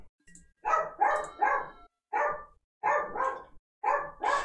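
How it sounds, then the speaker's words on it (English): A dachshund barks indoors in quick bursts of two or three, about eight sharp barks in all, fairly close and clear, with short pauses between the groups. "The dachshund is barking at presumably some home invader or a threat to the local populace"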